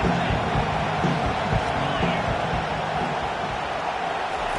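Stadium crowd noise from a college football video game against LSU, a dense steady roar of cheering fans. It stays loud and unbroken throughout, with no clear voices standing out.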